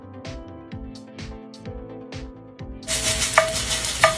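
Sweet potato fries frying in a pan, with a few rhythmic scraping and tapping stirs followed by a loud, bright sizzle that builds in the closing seconds, no voices.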